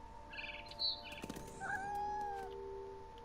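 A cat meows in the video game What Remains of Edith Finch: several short, close mewing calls over a faint steady background hum, with no talking.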